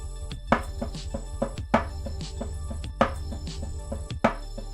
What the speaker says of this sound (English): if I'm doing some paradiddle but in double times, it'll sound like this.